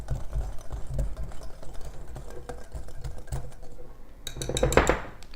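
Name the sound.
whisking unbleached and whole wheat flour in a bowl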